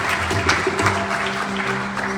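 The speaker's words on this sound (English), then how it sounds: "Let's give Panditji a big round of applause." Applause from a congregation at a Hindu temple's Navaratri evening for the officiating pandit, a short burst of fairly loud clapping mixed with a sustained musical tone and room murmur.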